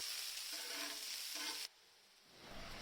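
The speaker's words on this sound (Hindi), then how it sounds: "2 मीडियम साइज़ की कटी हुई प्याज को डाल दिया है और इसे अच्छे से भून लेंगे" Two chopped medium onions fry with a piece of cinnamon and spices in desi ghee, giving a loud, close, steady sizzle that drops suddenly to a much quieter hiss partway through. No one speaks.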